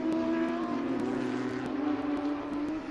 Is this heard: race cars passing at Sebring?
yes